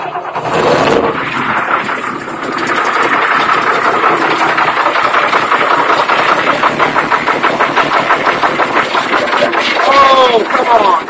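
A straight-piped CAT 3116-TA diesel in a 1997 Thomas MVP-ER school bus runs after a cold start: a loud, rough, rapidly pulsing exhaust chatter that holds steady close by, with voices faintly underneath.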